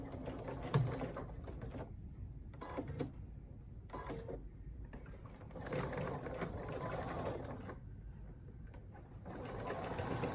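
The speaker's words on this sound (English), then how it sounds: "we'll stitch our flags closed with a 1/8 inch seam." A sewing machine stitches fabric Halloween bunting flags closed with a narrow seam, running in several bursts of rapid mechanical whirring separated by brief pauses, close and fairly quiet, with no voices.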